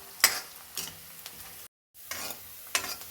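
Garlic cloves fry in oil for inji curry with a soft, close sizzle, broken by a few light stirring scrapes and one brief silent gap.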